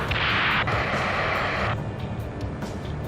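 Explosions and rocket blasts in the Ace Combat 7 air-combat video game: a loud, dense roar of blast noise fills the first seconds, then drops away to a lower rumble of game sound.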